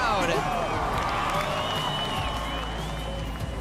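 A hometown crowd at a surf contest, the Rip Curl Pro in Portugal, sends up a broad, steady roar of cheering and applause that holds loud throughout, with an announcer talking over it.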